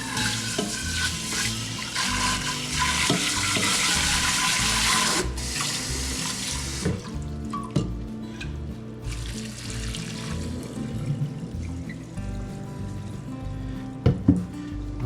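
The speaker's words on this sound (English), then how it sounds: "so we're going to go ahead and rinse out our pot." Tap water gushes loudly into a pot for several seconds, then shuts off, leaving scattered clinks and clanks of metal cookware.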